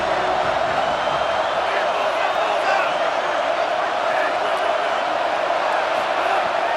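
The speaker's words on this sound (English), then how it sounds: "This crowd ready to make its presence known." Stadium crowd in an EA Sports College Football video game, a loud, steady wall of roaring, cheering spectators with faint whoops rising from the mass.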